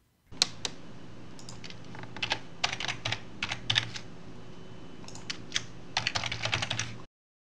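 Keys clatter on a computer keyboard in quick bursts of typing, close and clear over a faint steady hum, with short pauses between runs of keystrokes and no voices.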